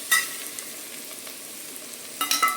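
Ginger garlic paste frying with onions in a pan, making a steady close sizzle punctuated by brief stirring scrapes and clatters near the start and end.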